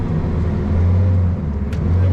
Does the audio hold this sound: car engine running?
yes